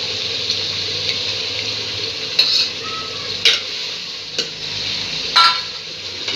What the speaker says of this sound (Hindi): अब इसमें हम लोग डालेंगे दही।